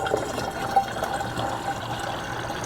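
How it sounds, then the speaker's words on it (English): Cleaner poured into a gallon jug of water, a steady, continuous splashing and gurgling of liquid filling the container, close and fairly loud throughout with no voices. "And we're going to pour it in there."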